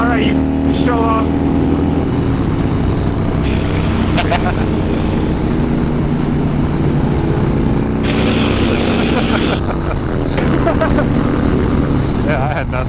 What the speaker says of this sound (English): That bike's wicked fast.